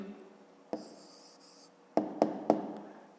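Pen or pencil writing the answer in a fifth-grade maths exercise on counting triangles, with a few quick scratchy strokes and sharp taps on paper, fairly close and with no talking.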